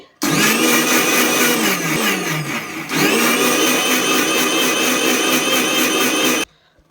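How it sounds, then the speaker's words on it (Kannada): An electric blender whirs loudly and steadily through vanilla cake batter for about six seconds, with a brief dip in pitch midway before it spins back up, then stops abruptly. "ಇವಾಗ ಇದನ್ನು ಚೆನ್ನಾಗಿ ಬ್ಲೆಂಡ್ ಮಾಡ್ಕೋತೀನಿ"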